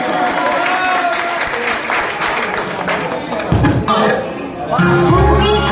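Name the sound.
applause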